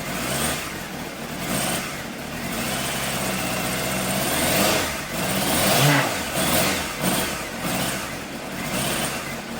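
A 20-year-old Honda CBF 600 motorcycle, still cold, has its engine blipped with the throttle, a steady mid-pitched running note swelling in a couple of rev surges before settling back, close by and without talk.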